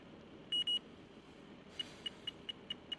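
A Fieldpiece DR82 refrigerant leak detector gives two quick high beeps, pauses, then beeps repeatedly in a rapid, evenly spaced series as it finds a leak, faint against a quiet background.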